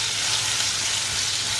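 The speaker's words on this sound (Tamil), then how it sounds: "இப்போ இந்த ஆனியன் வந்து நல்லா சாஃப்டாக குக் ஆகுற வரைக்கும் வதக்கி விட்டுறலாம்." Sliced onions frying in oil with cumin seeds give a steady, close hiss of sizzling that runs evenly throughout, with no voices present.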